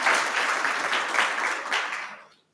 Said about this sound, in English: I hope you could hear the applause, Valentina.